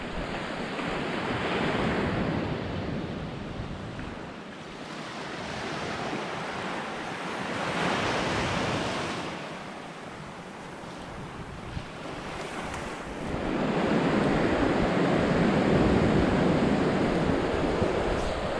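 Ocean surf rolls onto a Pacific Northwest coastal beach in steady washes, swelling and fading in loud waves, with wind buffeting the microphone throughout and no voices.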